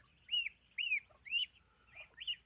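Soft, high peeping calls from white goslings, four or five short chirps in a row, faint and close with a low background hum.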